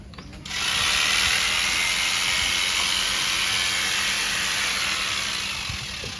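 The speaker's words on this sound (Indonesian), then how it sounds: "kita menyiapkan alat mesin cukur dan mengenalkan suara mesin ini kepada si domba agar domba tidak panik saat ingin dicukur." An electric sheep-shearing clipper switches on after a brief pause and runs with a steady, high-pitched motor buzz. It stays loud and even, then eases slightly toward the end.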